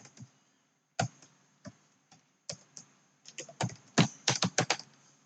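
Typing on a computer keyboard in a Notepad session: scattered key clicks that start sparse, then speed up into a quicker run of taps near the end, close and crisp with no talk.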